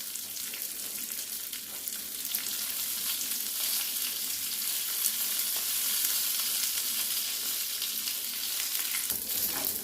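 Cashew nuts and curry leaves frying in hot oil in a pan give a steady, close crackling sizzle with small pops that holds for the whole stretch, no voices over it.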